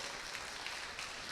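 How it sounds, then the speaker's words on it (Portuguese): Applause for children at a church children's ministry service, brief steady clapping from a small group. "palmas para eles também"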